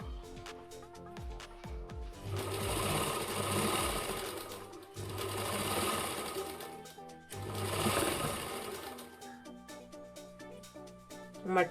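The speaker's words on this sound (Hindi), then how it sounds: "पलट कर एक सिलाई ऊपर से लगा देंगे" A sewing machine runs in three long stitching bursts while topstitching a blouse seam, each burst a fast rattling hum, separated by short pauses with light clicks and handling, close by.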